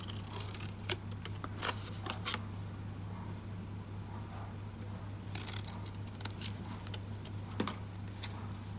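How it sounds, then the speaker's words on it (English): Ribbon scissors snip through a paper sentiment banner in a handful of crisp, quiet cuts spread across a steady low hum, with clusters of sharp clicks early and again near the end. "I'm also going to bring in my ribbon scissors and just cut off the sentiment to create"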